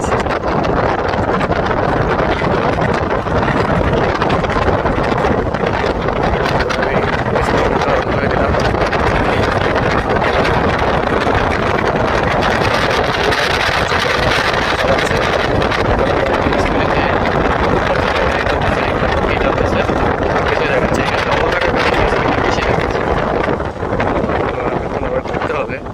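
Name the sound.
riding Naxeon SC5 Max electric bike, wind noise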